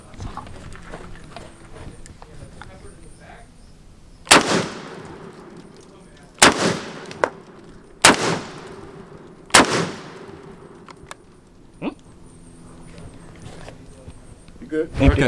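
A BP 100 12 gauge shotgun fires four loud, sharp blasts outdoors, spaced a couple of seconds apart, each with a ringing tail, while people talk between shots.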